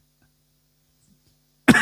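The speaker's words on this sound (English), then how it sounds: "Apologies if I didn't edit out that cough." A single sharp human cough bursts out close and loud at the very end, after near-silence, from a person recovering from a cough.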